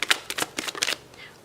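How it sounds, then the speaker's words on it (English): A deck of tarot cards is riffled and tapped in quick papery bursts, about six crisp flutters close to the microphone, then a softer slide as the shuffle ends. "We'll do one more shuffle and then we'll cut the deck."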